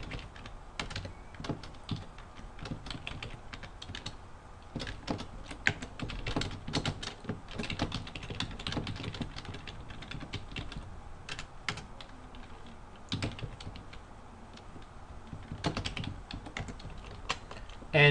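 Steady, brisk typing on a computer keyboard while code for a programming function is entered, with clustered bursts of clicking keys running nonstop and close-up throughout.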